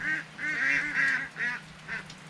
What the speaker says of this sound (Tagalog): yung mga itik napakaiingay